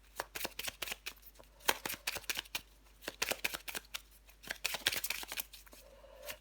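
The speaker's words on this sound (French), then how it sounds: "je prends encore une carte ou deux pour vous les sagittaires." Tarot cards being shuffled for a Sagittarius reading: a rapid, uneven run of crisp riffles and papery slaps, close and fairly quiet, with a short pause near the end and no talking.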